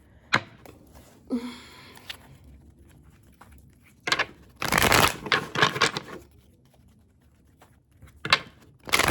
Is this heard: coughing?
no